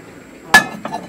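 Plates and bowls clinking in a thrift shop in Germany: one sharp ceramic clink followed by a softer second knock, close and brief.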